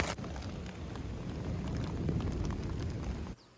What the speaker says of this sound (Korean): 갑자기 우박이 내리기 시작했습니다